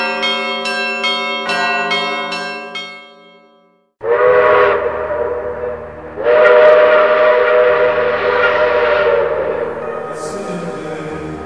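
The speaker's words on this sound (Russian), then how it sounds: "Протяжный гудок тепловоза, стук колес по рельсам" Long, drawn-out blasts from a diesel locomotive horn, rich and tonal, follow a brief run of ringing, bell-like chimes. The blasts are loud and close, and no rhythmic wheel clatter comes through.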